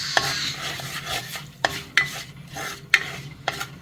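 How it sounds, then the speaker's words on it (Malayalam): Turmeric powder sizzles steadily in oil in a pan while a utensil scrapes and clinks against the metal at irregular intervals, close and fairly loud. "അത് നന്നായിട്ട് മൊരിയണം."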